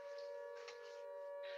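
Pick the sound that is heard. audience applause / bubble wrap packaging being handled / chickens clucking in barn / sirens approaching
sirens approaching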